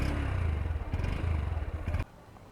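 A Honda NX200 motorcycle engine runs close by with a rhythmic low thump and some clatter, then cuts off abruptly near the end, leaving quiet background.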